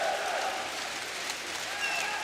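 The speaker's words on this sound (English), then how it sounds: "Teams applaud the crowd," Crowd applause fills a volleyball arena as the teams salute the fans after the 2016 FIVB World League bronze match, a dense, steady wash of clapping and cheering.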